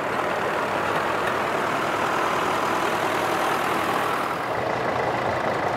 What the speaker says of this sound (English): The Land Bulldog just going by just over there with a Oliver on the outer side of it.